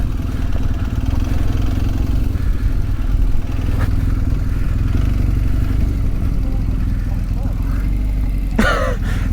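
A 2004 BMW R1200GS motorcycle rumbles along an off-road green lane on Salisbury Plain in first gear, its engine a steady, loud low drone with a brief clatter near the end.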